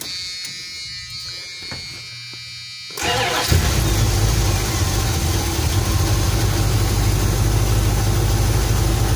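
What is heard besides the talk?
old carbureted Dodge van engine starting and idling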